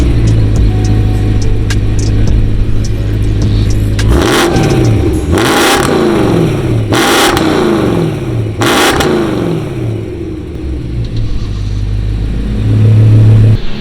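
A supercharged BMW E92 M3 V8 with a GPower 580 setup revs hard, climbing and falling through three loud surges over a steady idle rumble, close and alone with no voices.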